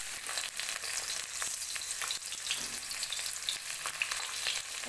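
Onions fry in hot oil in a wok along with a chilli and five-spice seeds, giving a steady, close, bright sizzle and crackle with a few faint stirring scrapes throughout and no talking.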